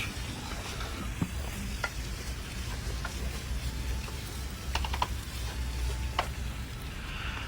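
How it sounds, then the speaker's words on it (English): Vegan Persian-style tomato spaghetti sauce cooks in a pan with a steady, close sizzle, while a spoon scrapes and taps through it in light, irregular strokes. "So gradually our sauce is cooking."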